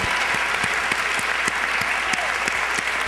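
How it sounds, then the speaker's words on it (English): A large audience at a closing plenary session breaks into steady, dense applause, with sharp individual claps standing out over the continuous clatter for the whole stretch. "a big round of applause for everybody in this space"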